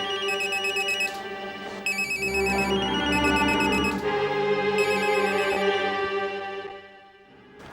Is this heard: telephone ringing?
yes